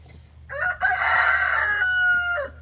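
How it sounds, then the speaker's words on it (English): A rooster crows once, a loud close cock-a-doodle-doo lasting about two seconds over a low background hum. "Now that is a crow, Hendolph."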